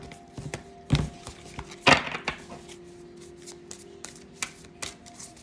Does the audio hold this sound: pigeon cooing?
no